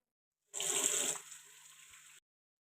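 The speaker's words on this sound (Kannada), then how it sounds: "ನೀಟಾಗಿ ಒಂದ್ಸಲ ಫೇಸ್ ವಾಶ್ ಮಾಡ್ಕೊಳ್ತೀನಿ" Water from a tap runs at a sink during a face wash, a sudden close splashing gush that softens to a thinner trickle before cutting off abruptly, with silence before and after.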